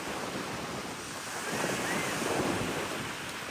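Breezy-day sea waves off the beach at Playa del Alamillo in Mazarrón, Spain: a continuous close roar of surf mixed with heavy wind buffeting the microphone, swelling slightly midway.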